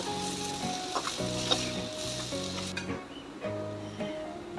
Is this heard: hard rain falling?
no